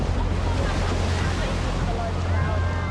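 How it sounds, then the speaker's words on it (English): Large ocean waves breaking at Bondi Beach, a continuous loud roar of surf and rushing water mixed with wind buffeting the microphone. "all of a sudden, these few huge waves came from around the corner at Ben Buckler's"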